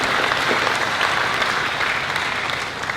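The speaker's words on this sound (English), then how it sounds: "Give yourselves a round of applause." Graduates and guests at a college commencement ceremony break into sustained applause, a thick, even wash of clapping that tapers slightly toward the end.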